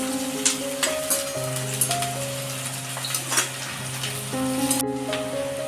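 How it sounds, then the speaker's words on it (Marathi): Tomato, onion and chilli sauté in hot oil for a Konkan wild-mushroom vegetable dish, a steady close sizzle running under a sustained tonal hum, with occasional brief stirring clatters. "टॅमॅटो आणि कांदा मिरची चांगली शिजवून घ्यायची की तेलावर परतून घ्यायची"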